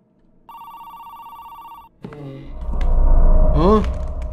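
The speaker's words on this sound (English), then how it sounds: "The phone's ringing." A telephone rings in the horror video game The Apartment, a steady electronic ring lasting over a second, followed by louder rumbling game ambience with rising tonal sweeps.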